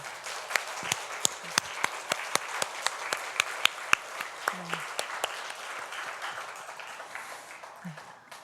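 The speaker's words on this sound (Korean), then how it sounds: "우리 함께 감사와 영광의 박수를 올려드리면 좋겠습니다" A church congregation breaks into applause during a worship service. Crisp individual claps stand out over a fuller wash of clapping that slowly thins out and fades, with a few faint voices mixed in.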